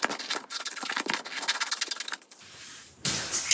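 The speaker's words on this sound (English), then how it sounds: "I like to trim off the adhesive border here of the laminate." Scissors snip along the adhesive laminate border of stickers, giving a run of close, crisp cutting and rubbing strokes followed by a brief quieter stretch.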